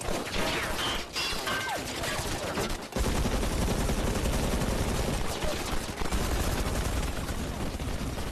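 Dense, continuous gunfire and crashing impacts, loud and close, running the whole length with a brief dip near three seconds before resuming at full intensity, with faint speech-like sounds mixed in.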